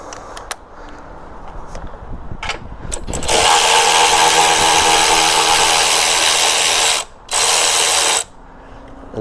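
A ratchet works a 10mm nut under the frunk tub of a Corvette C8. A few sharp clicks come first, then a loud, sustained whirring grind cuts out briefly and resumes, close by.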